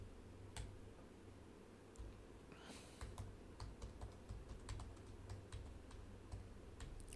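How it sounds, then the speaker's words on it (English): Quiet computer keyboard typing, a scattered series of soft key taps at close range that grows denser midway, over low room hum with no speech. "here, I'll type it in."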